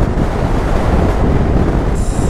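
Strong wind blast roars continuously and loudly across a Hero XPulse 200 motorcycle ride on the highway from Bangalore to Hubli, a dense buffeting rush filling the whole stretch with no talk.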